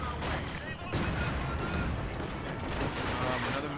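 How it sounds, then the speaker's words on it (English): Mortar fire in the Company of Heroes 2 video game: continuous dense battle noise with muffled blasts and gunfire, steady and busy throughout. "Another mortar."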